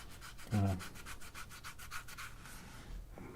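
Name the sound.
scrubbing grass residue off a DJI Neo drone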